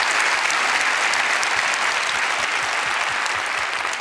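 Steady, dense applause from a large ceremony crowd at the Berlinale film festival, loud and unbroken throughout.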